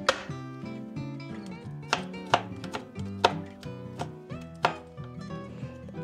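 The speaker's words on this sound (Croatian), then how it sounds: "A bijeli luk ćemo obično usitnimo" A knife chopping garlic on a board, with sharp, uneven chops ringing out one after another over a hum of background music, close and fairly loud.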